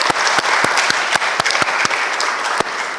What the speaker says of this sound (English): So big round of applause to the Minister.